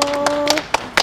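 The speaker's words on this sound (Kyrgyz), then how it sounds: "Бул жакта эки тараптан кол чабуулар." Applause from both sides of an audience at a timed competition, heard as a few short bursts of hand claps over a steady background tone rather than sustained clapping.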